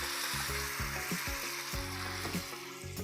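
Boiled, pre-tempered potato curry with cooked tomatoes being stirred in a pan, a steady close sizzle with soft scraping strokes running throughout.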